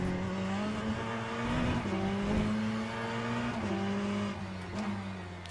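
A GTE race car engine in the Le Mans Ultimate racing game drones steadily and loud, its pitch climbing and dropping as it shifts through gears, with no voices.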